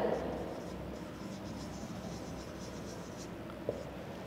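Pen or marker writing during a Class III moral science lesson, a faint continuous scratchy texture under a soft room hum, with a small tap near the end.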